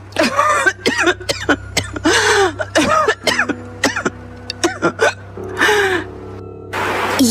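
A person in pain coughs repeatedly and gasps in a dramatized scene, with a string of sharp, close, irregular coughs and choking breaths and a low steady hum underneath.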